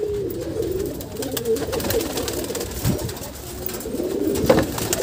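Pigeons cooing on a rooftop breeding loft where chicks are raised, a steady murmur of low calls running throughout with faint background noise and no talking.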